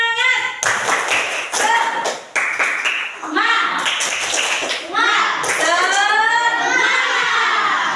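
A classroom of students does a rhythmic spirit clap: quick bursts of sharp claps in a patterned beat, followed by children shouting and chanting together.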